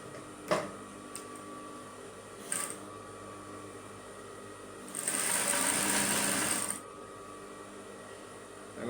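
A sewing machine stitches through folded skirt fabric in one steady burst of about two seconds, fairly close, framed by faint clicks and handling noises in a quiet room.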